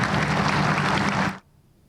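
Dense audience clapping at a project event, loud and steady, then cutting off abruptly after about a second and a half, leaving near silence.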